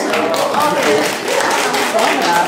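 Clapping and applause for three-year-old children at a kindergarten initiation ceremony, a steady crowd patter lasting throughout, mixed with voices and chatter.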